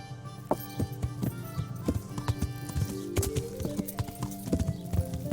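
Horse hooves clip-clop steadily nearby with an occasional whinny at a stable in Kingdom Come: Deliverance, over a bed of soft background music and ambient noise.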